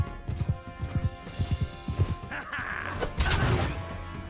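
Horse hooves gallop in the game Mount & Blade 2: Bannerlord with the Eagle Rising mod, a close rhythmic run of heavy thuds that gives way to a louder clattering crash of combat near the end.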